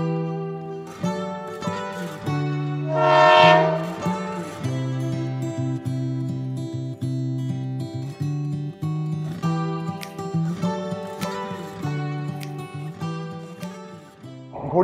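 The Aranyak Express at Santragachi station platform gives a long, loud tonal blast like a train horn, sustained and layered with steady low hum and occasional clanks, rising and falling over about fifteen seconds.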